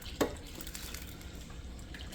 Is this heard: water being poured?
yes